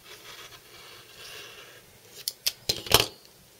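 Fabric being cut for quilt blocks along a ruler edge: a soft quiet stretch, then four or five crisp, close, rising cuts in quick succession, the last the loudest.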